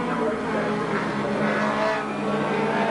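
BMW M3 touring car racing at Silverstone in the 1987 RAC Tourist Trophy, engine note steady and loud under a commentator's voice, with other racing cars mixed in throughout.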